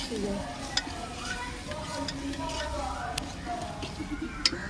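Peas being stirred in a frying pan, with a soft continuous sizzle and scraping stir strokes and a few sharp clicks of a utensil against the pan, heard up close.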